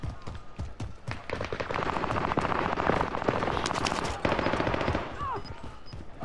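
Heavy gunfire in Call of Duty Modern Warfare: rapid automatic bursts crackle almost continuously and stay loud and close throughout, mixed with battlefield clatter, while faint voices come through underneath.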